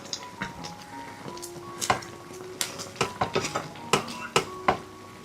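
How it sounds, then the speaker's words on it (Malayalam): Mango pieces stirred in thickening sugar syrup in a pan, a spoon scraping and clinking against the metal in quick irregular taps, close and fairly quiet, with no voice. "ചെറുതായിട്ട് പഞ്ചസാര പാനി ഒന്ന് കുറുകി വരുന്നവരെ ഇടയ്ക്കിടയ്ക്ക് ഒന്ന് ഇതുപോലെ ഒന്ന് ഇളക്കി കൊടുക്കാം"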